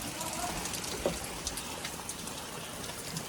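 Rain falls steadily on a garden day, a soft continuous patter with scattered droplet ticks, fairly quiet and unbroken throughout.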